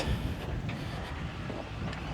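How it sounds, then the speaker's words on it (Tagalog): Wind gusting steadily across an open residential lot in Tagaytay, buffeting the microphone with a low, continuous rumble that stays loud and close throughout, with no one talking. "Mahangin dito guys."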